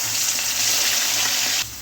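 Spice paste of green chilli, onion and garlic frying in a pan, a steady loud sizzle that runs unbroken before dropping off near the end.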